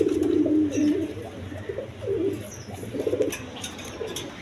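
Black beauty pigeons coo in several low, throaty bursts close by, with short pauses between calls and a steady background hum.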